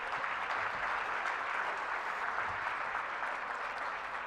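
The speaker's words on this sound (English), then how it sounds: "So if we could please stop and give them applause for that." At the 2019 Tribute to Women Awards, a large banquet audience applauds the YWCA with a thick, continuous roar of clapping that holds evenly throughout, with no talk over it.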